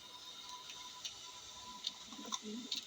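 Faint, soft pigeon coos in a loft, a few low burbling calls near the end with light scattered clicks and fluttery patter in a quiet room.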